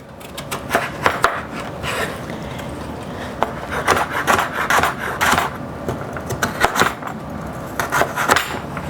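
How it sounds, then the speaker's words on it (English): A kitchen knife is sharpened with repeated close scraping and rubbing strokes in uneven bursts over a steady background. "Forgot to sharpen my knife."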